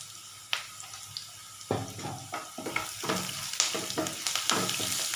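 Curry leaves and turmeric powder hit hot oil for a lady's finger podimas, bursting into a sudden sharp sizzle and crackle after a quiet moment, then popping and spattering unevenly up close.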